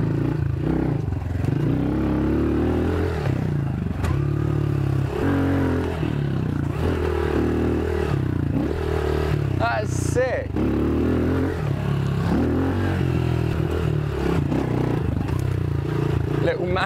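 A new dirt bike rides over small tabletop jumps, its engine droning and revving continuously up close with clattering bumps, while riders talk and shout over it.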